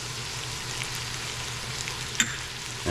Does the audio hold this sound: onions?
yes